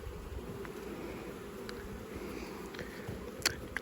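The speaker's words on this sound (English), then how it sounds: "Really a lot of bees." Honey bees swarm and buzz around an opened hive during frame work in a June beeyard, a steady dense drone close by with a few sharper individual buzzes passing near.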